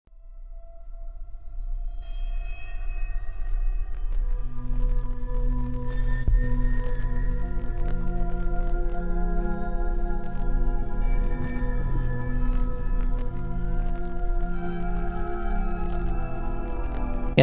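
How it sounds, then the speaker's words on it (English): An eerie song intro fades in from quiet: crackling vinyl static under sustained, wavering organ-like tones and rising siren-like glides that swell and hold at a steady, moderately loud level. "Got some vinyl static. We got a little bit of it sounds to be a distant organ playing. Sirens, whole 9 yards."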